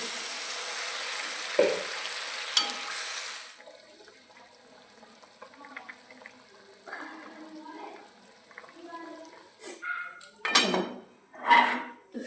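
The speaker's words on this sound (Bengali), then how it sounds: "একটু নেড়ে দিয়ে জল দিয়ে দিলাম, হয়ে গেছে আমার একটু কষানো" Spice paste (masala) in a pan gets a stir before water is added. A rush of hissing sizzle gives way to close clattering of a utensil against the pan, with scattered scrapes. A muffled voice is heard at times.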